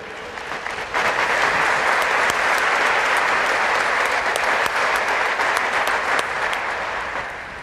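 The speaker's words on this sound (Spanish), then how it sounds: "le brindamos un fuerte aplauso" Congregation applauding at a Catholic Mass during the monthly feast of the Virgin of Itatí, a loud, steady wash of many hands clapping that swells in after a second and holds dense and close for the rest, with no talk.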